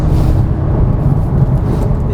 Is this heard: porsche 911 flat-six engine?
yes